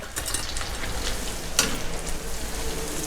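French fries deep-fry in hot palm oil, a steady close sizzle and bubbling crackle with a brief sharper pop midway, no voices.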